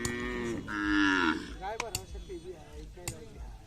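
A cow moos loudly and close by at a livestock fair and cattle market for Khillar cattle in Piliv, Solapur, one long drawn-out bellow followed by softer grunting and crowd noise, with people talking in the background.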